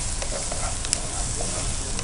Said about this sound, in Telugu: ఉల్లిపాయలో ఉన్న వాటర్ మొత్తం కూడా వెళ్ళి మంచిగా ఫ్రై అయ్యేదాకా ఫ్రై చేసుకోవాలా